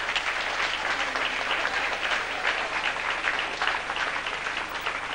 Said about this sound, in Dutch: alle medewerkers, geef ze een daverend applaus